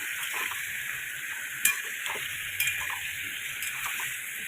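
Yogurt-marinated chicken frying in oil for chicken maharani, a steady soft sizzle running throughout with a few sharp clinks of a utensil against the pan near the middle.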